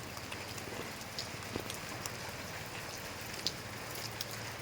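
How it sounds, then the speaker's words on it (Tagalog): Steady rainfall gives a soft, constant patter and hiss, with a few faint drips and taps scattered through it. "medyo ulan-ulan man mga idol"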